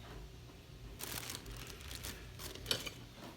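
Lollipop wrappers being unwrapped by hand, soft crinkling bursts of thin plastic, close and quiet, coming in a few short clusters against a faint background.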